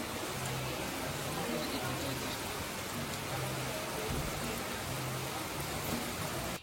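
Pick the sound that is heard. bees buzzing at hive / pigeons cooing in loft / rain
rain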